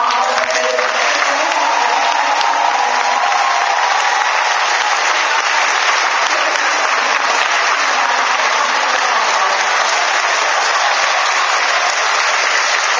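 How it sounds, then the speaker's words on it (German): Anime convention farewell event crowd applauding, a thick, continuous wash of clapping that holds at a steady loud level from start to finish, with faint crowd voices underneath. "Ein Applaus für Konmama."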